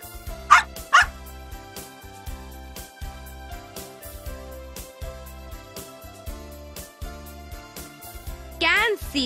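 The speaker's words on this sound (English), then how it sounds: "Dog." A dog barking, played as a sound example in a children's environmental studies lesson, with a few short sharp barks near the start and another burst near the end over a steady repeating musical background.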